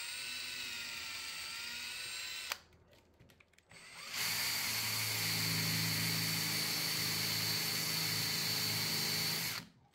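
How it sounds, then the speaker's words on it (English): A power drill bores holes into a radiator cover made from upcycled materials. A loud, high whirring run stops briefly, then a second long, steady drilling burst follows close by. "Then I got to drilling two holes at the top and two at the bottom."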